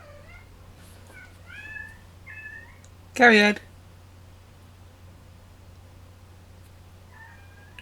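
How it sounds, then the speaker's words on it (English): Cats meow indoors in a few short, rising calls, spread across the moment and fairly faint, with someone briefly speaking between them. "Wait for the cats to finish making a noise."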